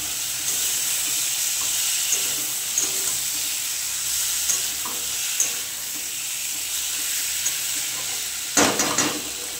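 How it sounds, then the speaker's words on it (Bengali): Fresh river bele fish fries with potatoes in a pan, a loud, steady sizzle and hiss close by, with a few soft stirring scrapes and a louder clatter near the end. "আলুর সঙ্গে মাছটা একটু কষে নেব"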